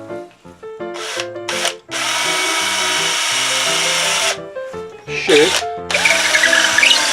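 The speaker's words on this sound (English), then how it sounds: "just wrap it onto my drill bit and then just put it in the hole" A power drill whirs in several bursts while cleaning out a hole, short at first, then a long steady run, over a faint tonal background.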